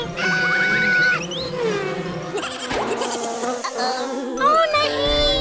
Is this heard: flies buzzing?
yes